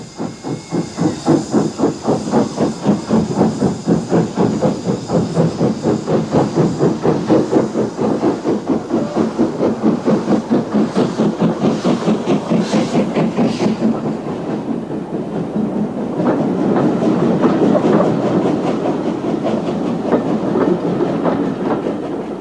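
An LMS steam tank locomotive hauls a holiday train on the Swanage line, with steady rapid exhaust beats and hiss running throughout, growing heavier and louder near the end.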